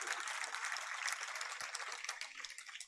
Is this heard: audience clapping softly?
yes